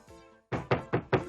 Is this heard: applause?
no